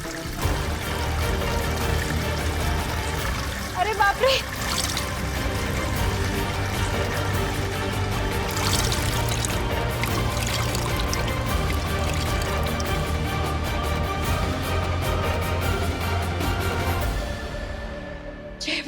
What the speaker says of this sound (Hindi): इतना पानी कहाँ से आ रहा है?